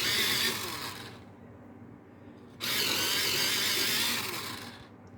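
Green colored pencils ground in an electric sharpener, two steady whirring bursts of about a second and a half each with a brief gap between them, moderately quiet and close, with no voices.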